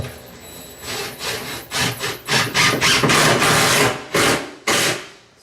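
A screw is driven through a barrel into a wooden board in a cabinetry wine room, giving close, grinding bursts of drilling into wood that come in short pulses and speed up toward the end.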